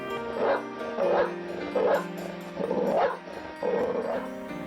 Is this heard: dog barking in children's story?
yes